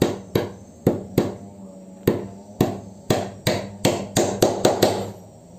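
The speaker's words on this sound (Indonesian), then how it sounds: "Nah, kita paku begitu." A hammer drives a nail while a tweeter is being mounted. About fifteen sharp, close blows ring out in uneven bursts, starting sparse and then quickening into a rapid run.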